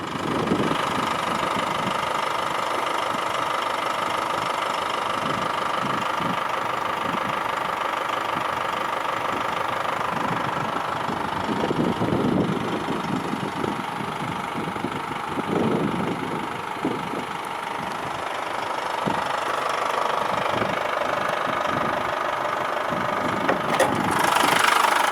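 A 2013 Chevrolet Captiva 2.2 VCDi 184 LTZ diesel idles steadily after start-up, a continuous close mid-range rumble with faint knocking clatter and no talking.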